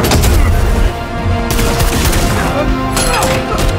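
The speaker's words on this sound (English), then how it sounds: "Two more shots to disable Vannak's shields." Loud gunfire and heavy impacts in a battle scene from the Halo television series, dense and continuous with booming hits and layered action effects and no clear pause.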